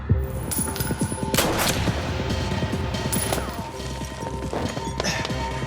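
Gunfire in an action film fight scene inside a building: dense, continuous bursts of shots and impacts with crashing and whacking blows, loud and layered over a busy soundtrack.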